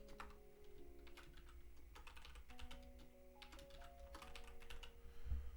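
A password is typed on a computer keyboard as quiet irregular key clicks in short bursts, over a faint steady hum and soft background tones.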